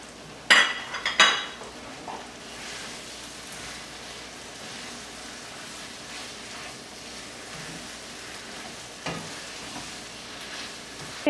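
Red bell pepper frying in a pan makes a soft, steady sizzle, broken by a couple of sharp clinks of a utensil against the cookware early on and a few quieter stirring knocks later.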